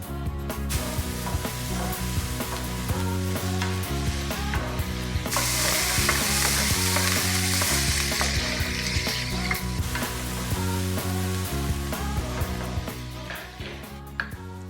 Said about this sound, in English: you continue to cook the pork until it's golden brown